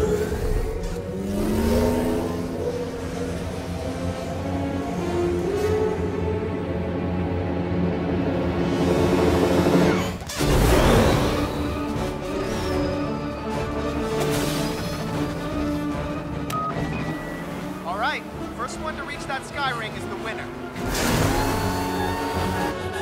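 Speeder bikes from the Star Wars Resistance cartoon rev and race past, producing a continuous loud engine whine with whooshing pass-bys and one brief break in the middle.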